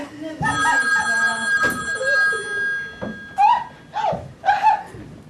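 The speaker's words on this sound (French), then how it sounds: "Le téléphone!" Telephone ringing on stage during a theatre comedy, a bright electronic ring sounding in repeated bursts while actors' voices overlap and respond, close and fairly loud.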